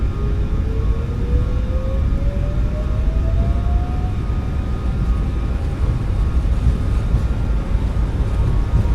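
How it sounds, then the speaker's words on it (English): Jet engines spooling at takeoff power in Microsoft Flight Simulator 2024, a loud, steady low roar with a rising whine over the first few seconds, no voices. "Takeoff power has been set."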